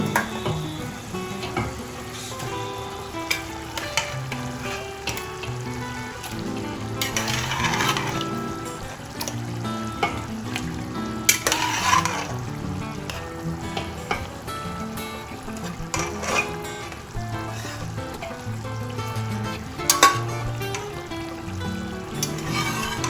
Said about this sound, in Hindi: अब हम इसमें चिकन डाल देंगे।